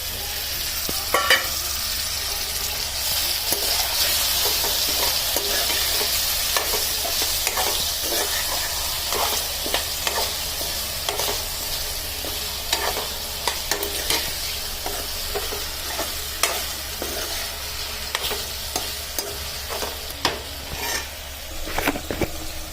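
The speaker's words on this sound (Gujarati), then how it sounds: "હવે નાખી દઉં હું ટામેટા" Tomatoes frying in a pan for a village-style brinjal and potato curry, a steady loud sizzle with frequent stirring scrapes and clinks throughout, no talking.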